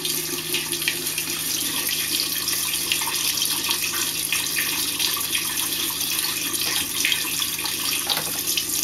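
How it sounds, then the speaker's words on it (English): Water rushes steadily through an RV toilet as it is flushed during dewinterizing, a continuous close hiss and splash that holds evenly throughout with no talking. "I'll just flush that until"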